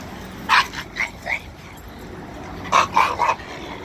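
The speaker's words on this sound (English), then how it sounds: "Little dog's barking at me because my postal outfit." A little chihuahua barks at a passing mail carrier in a postal uniform, two short bursts of high, yappy barks and yips at moderate distance, with a quiet pause between them.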